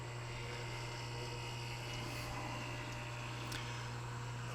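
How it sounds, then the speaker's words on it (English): An above ground pool pump running steadily, a constant close mechanical hum with a strong low drone, continuous and with no breaks or speech. "go ahead and flip the pump back on"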